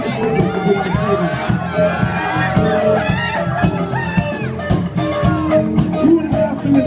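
A crowd cheers and shouts at a national pizza eating championship, with continuous dense voices, whoops and children's shouts rising and falling under an announcer's talk.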